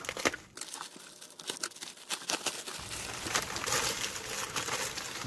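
Close, continuous crinkling and tearing of plastic packaging, with sharp crackles and rustles as the bag is pulled open.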